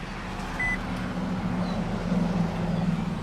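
A 2017 Nissan Altima's 2.5-liter four-cylinder engine idles with a steady low hum and faint mechanical hiss, heard alone and without talk, apparently from inside the car.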